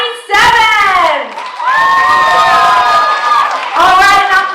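Loud crowd applause and cheering with whoops at a poetry slam, bursting in after a short pause, dipping briefly, then swelling again and holding steady to the end.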